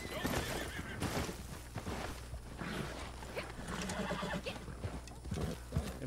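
A horse in the Red Dead Online video game neighs and snorts amid busy hoofbeats and clattering movement, close and continuous throughout.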